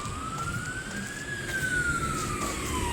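A fire truck siren wails on a snowy street in Poland, one long sweeping tone rising then falling as the vehicle passes, steady and fairly loud over low traffic rumble.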